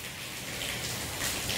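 Light morning rain falls over open countryside near sugarcane fields, a soft, even patter and hiss of drops heard close by and alone.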